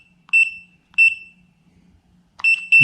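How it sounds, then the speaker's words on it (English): Kwikset SmartCode 911 touchpad deadbolt giving three separate electronic beeps, each short and bright with a harmonic tone, spaced roughly a second apart, close and loud, with a muffled click at the end. "You press the program button, it beeps at you"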